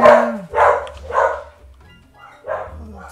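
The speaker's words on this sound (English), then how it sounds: "my doggy's having a good old-fashioned woof" A pet dog barks in a burst of about four loud, close woofs spaced roughly half a second apart, with a low hum underneath and a brief whimper-like tone at the start.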